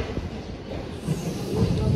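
A train stands at the Phaphamau Junction railway platform with a low, continuous rumble that swells toward the end, mixed with faint platform ambience.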